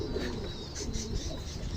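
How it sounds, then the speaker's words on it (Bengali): Pigeons kept in a loft give soft, low cooing calls in a short, quiet burst against a faint background murmur. "এই যে লফটের কবুতর"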